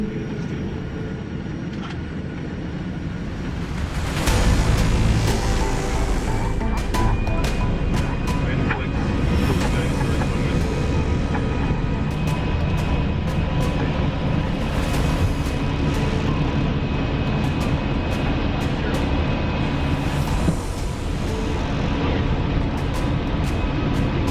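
An airliner makes a rolling takeoff on runway 01. Engine roar swells within a few seconds and holds as a loud, steady broadband rush with a thin high whine running through it.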